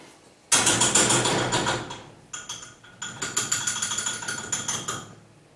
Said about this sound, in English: Let's just give that another little stir just to get the chocolate chunks incorporated.